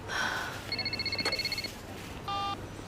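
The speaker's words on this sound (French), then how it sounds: "C'est mon téléphone." A telephone rings in a French-language thriller film scene, giving short electronic ringing bursts with brief gaps and a steady tone near the end, over a quiet room background.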